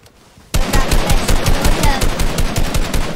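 Rapid automatic gunfire in the video game Fortnite bursts in abruptly and continues as a loud, evenly spaced stream of shots without pause.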